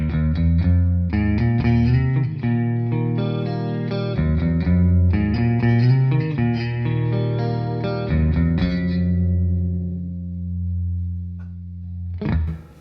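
An electric guitar played through a TC Electronic SCF Gold chorus pedal into a Deluxe Reverb amp rings out a shimmering, swirling riff of sustained chords that fades to a ringing tail, ending with a sharp knock.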